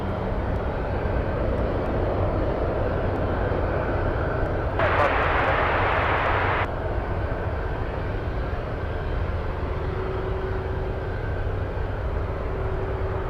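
A heavy cargo jet takes off at Anchorage airport, its engines a loud, continuous rumble throughout, with a brighter roaring surge in the middle before settling back to a steady drone.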